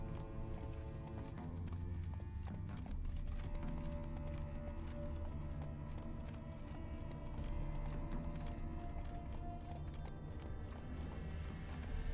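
Horse hooves clip-clop at a brisk, regular pace in The Witcher 3, the steady rhythmic footfalls running throughout beneath a dense layer of game music and ambience, fairly faint overall.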